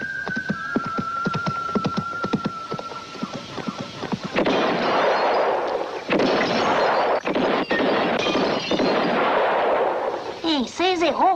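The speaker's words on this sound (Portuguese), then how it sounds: "Pai, mas atirou bem." Gunfire in a Western film: several sharp, loud shots crack in quick succession over the first few seconds, then a dense, continuous roar of commotion, with horse-like sounds and music mixed in.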